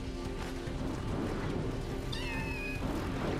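Kittens meowing in the video game Final Fantasy VII Rebirth, several short high-pitched mewls in quick succession rising over a steady busy game background of music and ambience.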